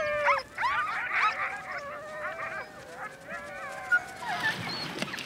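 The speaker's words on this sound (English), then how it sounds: "sled dogs mainly get narwhal meat to eat in summer" Sled dogs in Greenland whimper and whine at summer feeding time, with narwhal meat as their food, a chorus of high wavering cries overlapping and continuing throughout, with a brief sharper yelp near the end.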